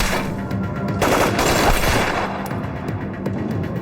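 Rifle gunfire in a war drama battle scene: rapid, dense bursts of shots blur into a loud continuous rattle with booming low rumble, no talk.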